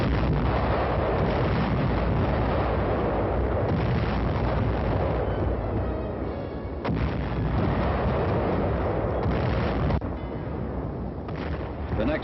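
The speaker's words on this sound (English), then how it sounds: "Now, our artillery pounded and repounded the enemy defenses guarding San Pietro." WWII artillery bombarding enemy defenses at San Pietro, heard as a dense, continuous roar of booms and blasts with rumbling low end, loud and sustained throughout with brief dips, no talk.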